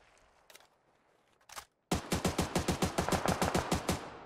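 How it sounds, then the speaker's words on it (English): Gunfire in the PUBG console video game: a couple of faint isolated shots, then a loud rapid burst of about fifteen evenly spaced automatic rounds, close and sharp. "I got shot in the back."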